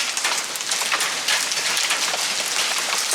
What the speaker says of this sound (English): This is like pretty good size hail.